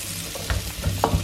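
Diced, peeled celeriac softening in butter in a pan gives a steady close sizzle, with a few soft knocks from stirring on top and no talk.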